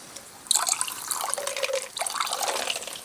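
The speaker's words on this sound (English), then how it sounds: "And I'll add a little bit of water too." Water poured into a noodle sauce while cooking, a close splashing and trickling pour lasting a couple of seconds with a short break, fairly soft and heard without talk.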